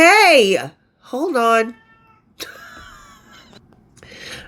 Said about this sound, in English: for those of you who don't know, that's my cat, Baby Beluga, my 17-pound boy